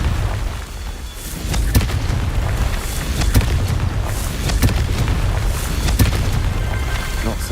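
Confringo fire spell blasts in Hogwarts Legacy, a run of repeated sharp booming bursts over dense, loud combat noise and rumble.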